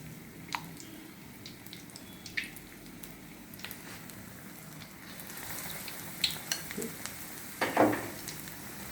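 Mirchi vada, chilies in batter, frying in hot oil over a medium flame, giving a steady, soft sizzle with scattered pops and crackles that grow busier toward the end.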